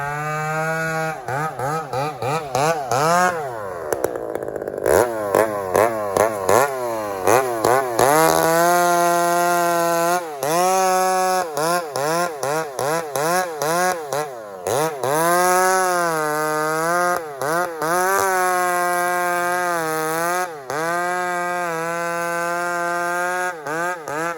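A Husqvarna chainsaw with a ported muffler cuts into a decrepit tree, its engine screaming at high revs and then dropping and rising again in repeated bursts, loud and close, with no talking.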